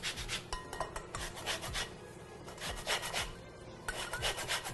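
Fresh orange zest being grated by hand for a pear and date pie, a steady run of close, raspy scraping strokes repeating in quick rhythm with no talking.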